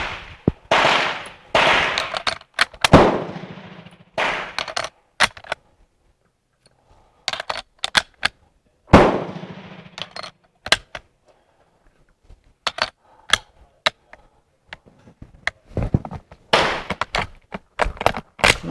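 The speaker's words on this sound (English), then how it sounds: "So to verify that, I want to shoot 5 more." Several sharp, loud gunshots from a Mauser Colombian Model 1950 rifle, a large-ring Mauser, spaced irregularly at close range, with short pauses and clicks of bolt handling between reports.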